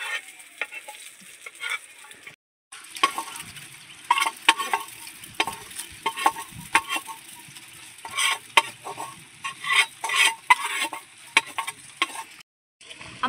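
Fried onion and chili tipped into a hot pan over a clay stove, soft sizzling under a run of close spoon scrapes and stirring clatter, with brief quiet gaps.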